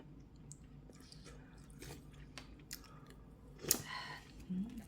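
Close, soft chewing and biting on noodles, with a few faint wet clicks and one sharper crunch near the end, over quiet room tone.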